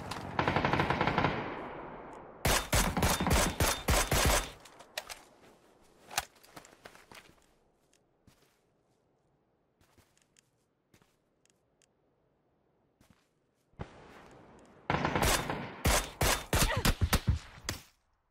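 M16 rifle fire in the PUBG video game on the original Erangel map, loud rapid bursts separated by a long quiet stretch with scattered faint shots and footsteps.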